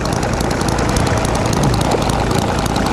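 A model flathead-style engine built by designer Randall Cox runs steadily at close range, a loud continuous buzzing drone with a dense, rough texture that holds without pause.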